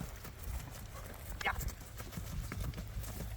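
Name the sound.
horse hooves as it is turned around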